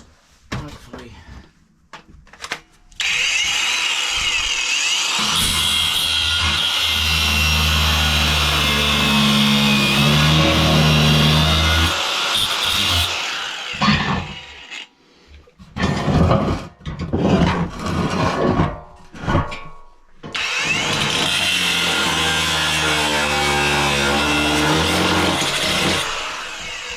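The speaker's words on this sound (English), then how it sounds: "Battery angle grinder, not very good." Battery-powered angle grinder cutting metal while subframe crossmembers are removed, a loud continuous grinding roar in two long bursts separated by a stretch of rattling handling noise.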